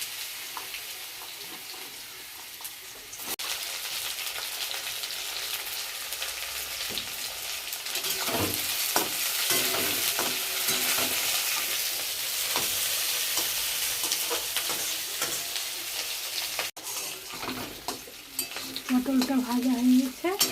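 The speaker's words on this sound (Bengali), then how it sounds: "পটলগুলোকে ভেজে দেবো।" Pointed gourd (potol) fries in oil with a sustained, crackling sizzle that swells and spatters. Occasional stirring scrapes and a short tonal sound near the end come through, with faint background voices.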